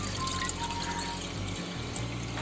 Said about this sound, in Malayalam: അപ്പോൾ വെള്ളം ഒഴിച്ചു കൊടുക്കാം.